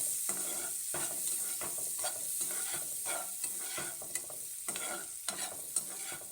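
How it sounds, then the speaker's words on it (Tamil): Onions sauté with popped mustard seeds until golden brown, a soft constant sizzle under rhythmic spoon-stirring scrapes and light taps in the pan, fairly quiet and close. "ஆட் பண்ணிவிட்டு நல்லா கோல்டன் ப்ரௌன் ஆகிற வரையும் நல்லா வதக்கிக்கோங்க."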